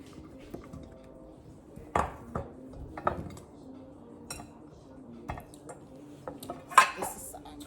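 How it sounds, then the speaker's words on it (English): Potatoes set into a bowl beside corn, scattered knocks and clinks of utensils and dishes with a bright ping near the end, quiet and sparse against a calm kitchen background. "So I'm gonna put all of the potatoes in a bowl here."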